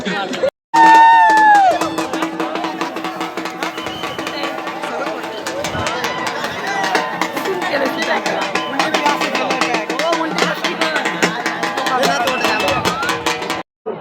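A large crowd of people climbing Raigad fort, a dense, steady hubbub of many voices and footsteps with occasional shouts and cheers, close by and continuous throughout.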